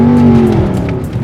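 A car engine revs up and drones steadily as the vehicle pulls away from a garage, loud and close throughout with a slight fall in level toward the end.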